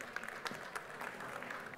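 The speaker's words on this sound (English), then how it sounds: "Let's give them a round of applause." Audience applause at a conference session on education and the knowledge economy, a fairly faint, steady patter of clapping through the short stretch with no talk over it.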